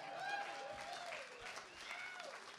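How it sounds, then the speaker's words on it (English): Audience at a live music show at an arts centre applauds in a steady round of clapping, with a voice talking faintly over it. "Round of applause, everybody."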